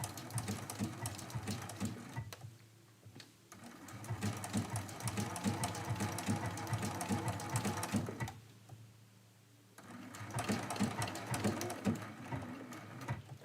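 A sewing machine stitches a quilt in three rapid runs with short pauses between, its needle chattering quickly and close by, no speech over it.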